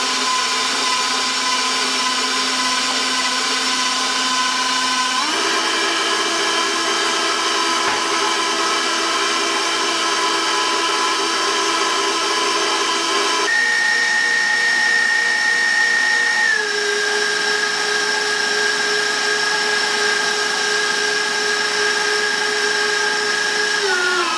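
Electric hand mixer whipping egg whites with sugar toward stiff peaks, a loud steady whine running close and continuous for the whole stretch, its pitch stepping between speed settings, with no talking.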